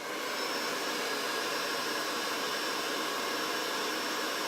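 A hair dryer blows steadily on a craft project, a loud, constant airy roar that stays even from start to finish, with no speech.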